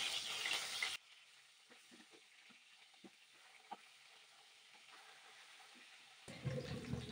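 Pieces of pangas fish fry in hot oil, with a loud sizzle at the start, a quiet stretch with scattered soft clicks and taps, then the sizzle bursts back up at the end.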